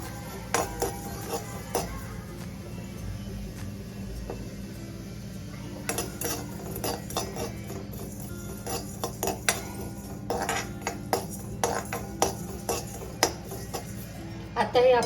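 Ingredients for patwadi rassa dry-roasting in a kadhai while being stirred, with irregular metallic scrapes and clinks of a spoon against the pan, close and fairly loud, over a low background hum.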